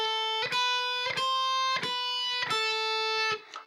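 Five clear, distorted electric guitar notes are picked one after another at a steady, unhurried pace, each ringing until the next.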